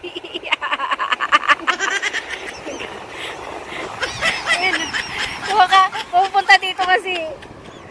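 Birds on a beach at Bundaberg give repeated honking and quacking calls in quick bursts, mixed with nearby voices of a family chattering.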